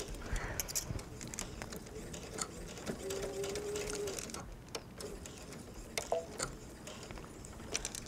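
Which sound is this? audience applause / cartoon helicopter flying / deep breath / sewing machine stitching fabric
sewing machine stitching fabric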